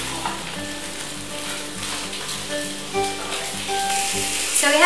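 Salmon sizzling in a frying pan, a steady close crackle of hot fat, with tonal music playing over it and growing slightly louder near the end.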